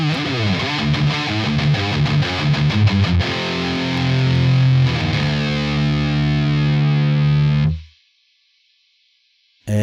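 A saturated distorted electric guitar tone from an amp simulator plugin rings out as a loud sustained chord with some rhythmic chugging, then cuts abruptly to near silence before a faint return at the very end.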